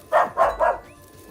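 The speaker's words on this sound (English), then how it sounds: "kind of nice to have a dog joining in the conversation" Dog barking three times in quick succession, moderately close, with short evenly spaced barks and no talk.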